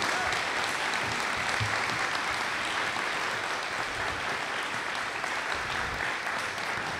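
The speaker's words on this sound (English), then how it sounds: "if I could have a big round of applause for all of those people" A large crowd applauds steadily at a high school's closing ceremonies, an even, sustained roar of clapping that carries through the whole stretch at moderate volume from a distance.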